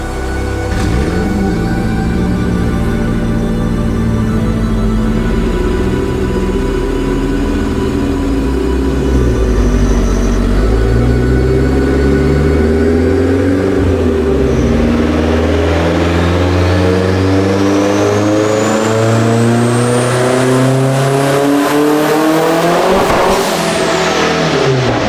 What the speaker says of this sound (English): That was the attempt at the first pull, and we had some sort of a fuel cut